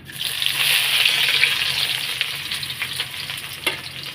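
Sliced onions drop into hot oil already tempered with black cumin (nigella) and burst into a loud, close sizzle that swells at first, then settles into a steady crackling fry with a faint clink of a utensil near the end.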